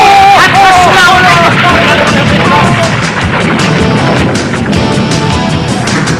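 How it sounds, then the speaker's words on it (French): Cartoon explosion of a crystal dome in a Galaxy Rangers episode, a loud burst with crashing, shattering debris and a rumbling boom sustained under a dense, noisy music score throughout. "Il fait exploser le dôme de cristal."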